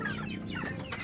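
Farm chickens being raised for meat in a semi-free-range pen, clucking continuously at moderate distance, several birds overlapping in a busy, steady chatter.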